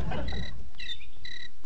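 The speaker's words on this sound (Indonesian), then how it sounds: "Suara jangkrik jam segini coba." Crickets chirp at night in short, bright, pulsing trills repeated three times, close and clear over a low rumble at the start.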